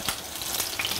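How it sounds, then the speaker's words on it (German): Asparagus ragout made with asparagus stock cooks in a pan. A steady, close sizzle and bubbling carries faint crackling pops, with no voices over it. "So, das kocht schon."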